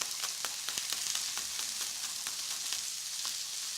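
Flat beans (falia) frying in a pan, giving a continuous bright sizzle with soft crackles and pops scattered through it, close and moderately quiet.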